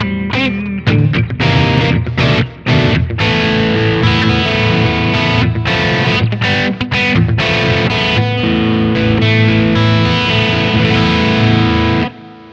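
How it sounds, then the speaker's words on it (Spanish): Electric guitar played through a Silver Linings overdrive pedal, loud distorted chords and riffs with sharp stops and restarts, alone for about twelve seconds before cutting off. "así que escuchá primero el overdrive."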